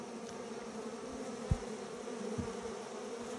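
Honey bees buzzing around an open backyard hive, a soft continuous drone held steady throughout, with two brief dull knocks from hive parts being handled.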